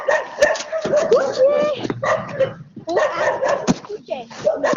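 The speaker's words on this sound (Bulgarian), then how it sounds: "Куче!" A dog yips, barks and whimpers in quick excited bursts close by, with people talking and shouting over and between the barks.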